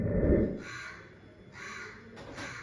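A crow caws repeatedly, three distinct harsh calls spaced out over a low background rumble, clear and moderately near, with no talk over them.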